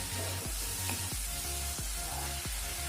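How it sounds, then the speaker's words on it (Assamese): Chicken and taro fry in a pan with a low, continuous sizzle, faint and steady, punctuated by regular rhythmic knocks of stirring about every half second. "ভালদৰে ভাজি ল'ব লাগিব গোটেইখিনি বস্তুৰে কেঁচা মিঠটো যোৱালৈকে"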